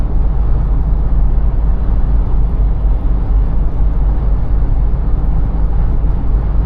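A Mercedes W124 cruising on the Autobahn at high speed with the engine between 2,300 and 3,000 rpm, heard from inside the car as a constant loud rush of engine drone, road roar and wind, with no talk.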